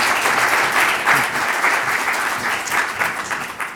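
Audience applauding a speaker, artist Kenny Schachter, just introduced at an evening talk: steady, dense clapping from a sizable crowd, loud and sustained throughout with no talk over it.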